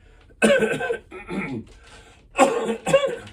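Two rough bursts of coughing, each a cluster of harsh hacks, separated by a short pause, close and fairly loud.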